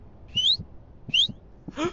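Short, bright whistles sound in a Backrooms horror game: two rising whistle notes, then a third, each brief and clear, over quiet background with soft thumps between them.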